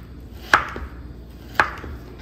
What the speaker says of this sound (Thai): ส่วนหมูยอดิฉันก็จะหั่นก่อนนะคะ ก็จะหั่นให้พอดีคำนะคะ